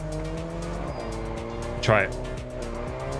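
A car drifts in the racing game Test Drive Solar Crown, the engine droning steadily before a loud tire squeal rises and sweeps upward near the middle, with a person talking over it.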